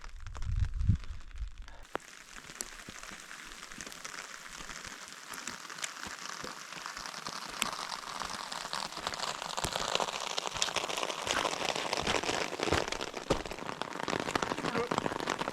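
Steady rain patters on a surface close by during a hike on the Vercors high plateaus, a dense crackling hiss that grows slightly fuller after a brief rustle at the start.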